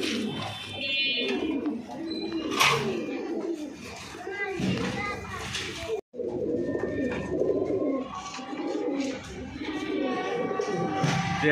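Kaldom, gorra and giribaj pigeons coo repeatedly at a pigeon seller's stall, the soft calls close by under steady talking from people, with children's voices in the background.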